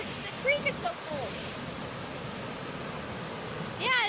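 A fast, cold creek in Colorado, swollen after a hailstorm, rushes with a steady, full roar close by, while faint voices and brief higher sounds surface briefly near the start and end.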